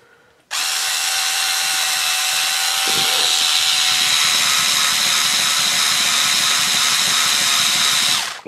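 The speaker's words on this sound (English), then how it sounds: "I think this is a metal drill" A power drill with a metal drill bit bores into plastic for a servo winch build, starting abruptly and whining loudly and steadily for about eight seconds, its pitch shifting slightly as the bit bites in.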